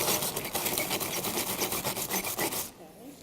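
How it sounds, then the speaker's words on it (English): Stiff brush scrubbing back and forth over a stained glass window sprinkled with fine sawdust, a steady rasping rub with rhythmic strokes, close and fairly loud, stopping abruptly near the end. "you take a brush and you scrub it"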